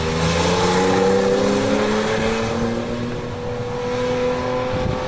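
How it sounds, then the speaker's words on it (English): A Porsche sports car drives past on a road beside a mountain bike trail, its engine a steady, fairly loud rising-and-falling drone with harmonic whine that holds for several seconds as it goes by. "It's a Porsche."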